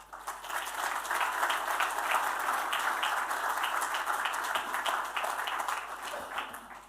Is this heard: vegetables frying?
no